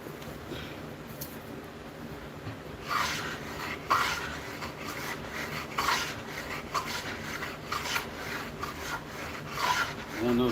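Buck Bros hand plane chamfering a wooden edge, giving a series of dry rasping strokes that start a few seconds in and repeat at an uneven rhythm, close and moderately loud, with no talking.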